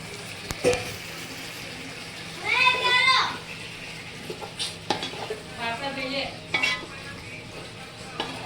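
Marinated chicken being added to a pot and frying for chicken biryani, with faint sizzling, stirring scrapes and a few utensil clinks against the pot, quiet and intermittent.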